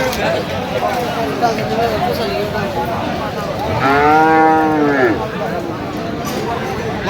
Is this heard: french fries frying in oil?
no